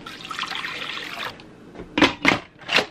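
Water pours steadily into an Instant Pot holding beef tongue and bay leaf for about a second, followed by a few clunking knocks of metal nearby.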